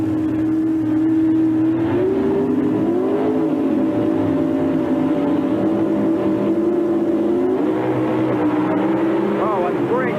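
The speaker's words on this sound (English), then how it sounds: "motors come up." Pro Stock drag racing cars at an NHRA event rev loudly and launch, a sustained high engine drone with rising pitch sweeps, continuous and close, with commentators talking over it.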